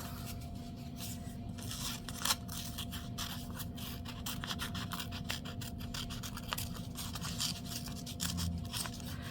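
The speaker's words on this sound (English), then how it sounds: "let's see if we can cut these guys out." Scissors snipping out paper pieces for a handmade journal card, envelope and pocket, a close, steady series of quiet cuts and rustles with no talking.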